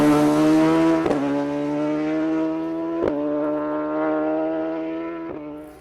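Race motorcycles, including a BMW S1000RR and a ZX6, scream out of a corner on a road course in Mexico, a loud rising engine wail from a passing bike with sharp upshift breaks and a trailing drone.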